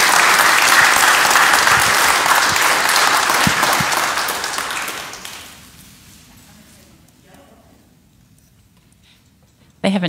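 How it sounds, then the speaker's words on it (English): A church congregation applauds warmly at a traditional service, the clapping loud at first, then thinning and fading out after about five seconds into near quiet, with a sudden sound returning at the very end. "please, let's do just another warm round of applause to welcome Pastor Aaron this morning."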